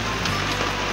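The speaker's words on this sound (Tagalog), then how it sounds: "Ngayon lang umulan ulit dito." Rain falls steadily on a rural farmyard where Muscovy ducks are kept, a dense, continuous wash of close patter with no talk.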